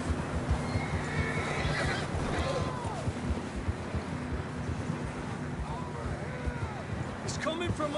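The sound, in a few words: horse neighing in video game Red Dead Redemption 2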